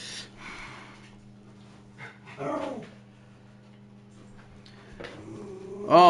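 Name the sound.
dogs barking and fighting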